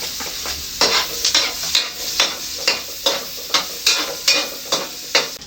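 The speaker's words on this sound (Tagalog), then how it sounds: "So, gisayin na rin natin itong bawang sa sibuyas." Garlic and onion sautéing in a pan for beef caldereta, a steady sizzle with rhythmic scraping strokes of a spatula stirring about every half second, close and fairly loud with no talk.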